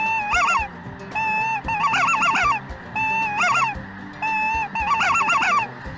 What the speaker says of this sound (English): We got a bunch of birds jumping up.